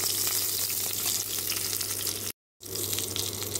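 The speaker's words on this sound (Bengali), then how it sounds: "এখন আমি দিয়ে দিলাম কাঁচা লঙ্কা, 4টে কাঁচা লঙ্কা।" Green chillies frying with cumin in hot oil, a steady close sizzle and hiss with a brief dropout near the end, no talk.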